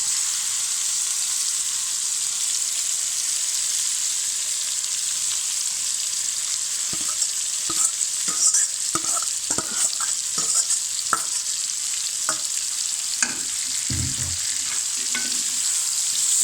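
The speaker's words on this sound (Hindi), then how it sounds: "अब हम इसमें डालने जा रहे हैं फ्राइड चिकन" Fried chicken sizzling in a karahi with a steady hiss, joined partway through by a run of sharp metal spoon scrapes and knocks against the pan, close and clear.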